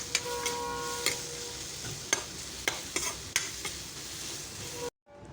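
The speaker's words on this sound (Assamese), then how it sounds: "তাৰপিছত মাছখিনি পেলাই দিম ইয়াতে" Fish frying with onions in a hot pan, a steady close sizzle with several sharp clinks and stirring scrapes, cutting off abruptly near the end.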